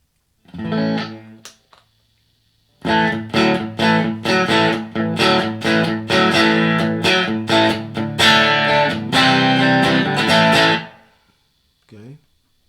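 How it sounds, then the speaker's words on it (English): Electric guitar through a Blackstar ID:Core 40 amp on the crunch setting: a brief chord, then a long run of distorted, choppy strummed chords in steady rhythm, loud and close. "So this was the crunch on the gain here."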